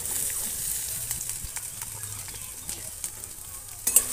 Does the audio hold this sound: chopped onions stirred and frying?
yes